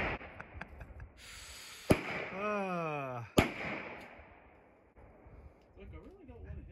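Two sharp, loud gunshots about a second and a half apart from a black-powder gun firing buck and ball paper cartridges at a 300-yard target on an outdoor range, each crack followed by a rolling echo, with voices talking between the shots.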